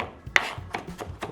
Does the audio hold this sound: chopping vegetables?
yes